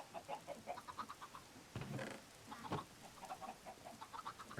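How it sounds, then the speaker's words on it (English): Chickens clucking in modded Minecraft, faint repeated short clucks in a steady run, with a brief burst of louder noise partway through and no talking. "Our chickens have begun growing up"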